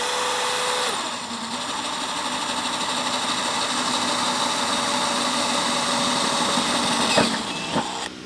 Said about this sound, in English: you can use the same drill bit to start your hole